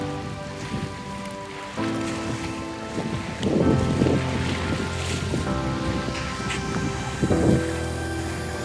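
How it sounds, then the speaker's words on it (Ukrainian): Steady wash of Black Sea surf at Odesa beside a pier, swells rising and falling, plus a low engine-like hum and occasional light clatter in the background; no talking. "Тут хвилі."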